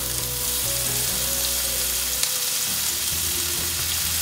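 Sliced green onion sizzles in a pan alongside fish piccata, giving a loud, steady frying hiss that carries through the whole moment with no talk over it.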